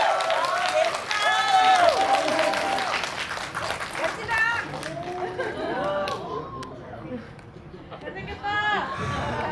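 A cinema audience at a Korean film stage greeting claps and cheers as actors come out, applause mixed with excited chatter and shouted greetings, voices rising over the clapping throughout.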